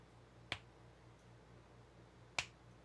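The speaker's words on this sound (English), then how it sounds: "if I snap my fingers, watch that graph" Two crisp, isolated finger snaps ring out about two seconds apart, sharp and fairly close, over a quiet room with a faint low electrical hum.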